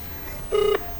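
A single short telephone dialing tone beeps once, clear and close, over a quiet background hiss.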